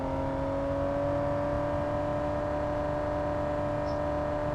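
Vehicle engine in the PUBG battle royale game, a loud steady droning hum with sustained tonal whine holding at a constant pitch throughout, close and continuous with no talk over it.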